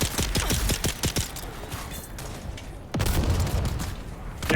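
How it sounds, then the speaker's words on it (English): Gunfire and a grenade blast in the video game Dune: Awakening, a rapid burst of close shots followed by a dense rumbling fusillade, then a sudden louder explosive hit near the end, with continuous firing and no talk. "Grenade."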